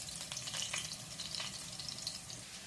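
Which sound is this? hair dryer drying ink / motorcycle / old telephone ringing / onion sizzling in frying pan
onion sizzling in frying pan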